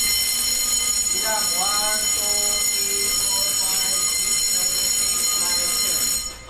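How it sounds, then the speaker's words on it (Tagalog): At a training center, a fire alarm sounds loud and continuous, with a steady ringing tone that runs throughout and fades at the end while a person speaks briefly over it. "so this is the alarm"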